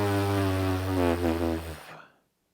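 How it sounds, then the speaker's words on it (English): Buzzing lips with air blown through pressed lips, as used in trombone practice, giving a rough, steady buzz about two seconds long with a slight wobble before fading out. "blow air through, and we'll start getting a buzz that sounds like this"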